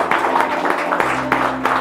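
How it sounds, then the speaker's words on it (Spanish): A church congregation claps together in a thick, continuous wash of applause, with a steady low tone sustained underneath. "Un aplauso a Él."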